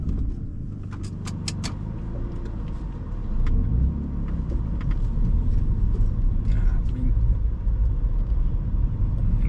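Road rumble and engine drone from a manual BMW E46 323i on a test drive, growing slightly louder midway, with a few light clicks and rattles inside the cabin and some voices in the background.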